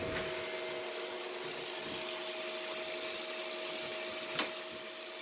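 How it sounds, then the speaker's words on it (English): A vacuum cleaner fitted with a narrow attachment cleans out an air vent, its steady hissing roar running the whole time with a faint tonal whine, close and constant, broken by one brief knock near the end. "So I'm going to vacuum that out now with this handy dandy little attachment that makes it nice and narrow."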